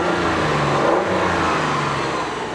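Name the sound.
Santa Fe SUV 3.5-liter V6 engine revving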